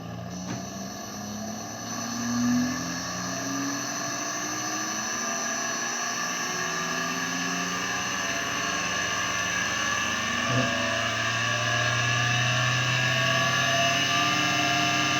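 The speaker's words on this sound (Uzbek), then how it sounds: "Dvigatel ishga tushdi mana." An electric motor, started by a push-button relay on a DELIXI CDI-EM60 drive, hums steadily with a sustained tonal whine and a low drone, running continuously without pause.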